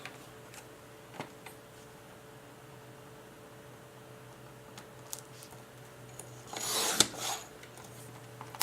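Paper photo being trimmed for a scrapbook album, with a faint rasping cut near the end amid a few soft ticks and light handling noises in a quiet room, with no voice.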